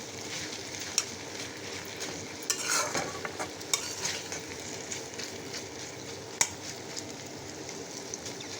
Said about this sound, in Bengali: আচ্ছা, ভেজে নিচ্ছি।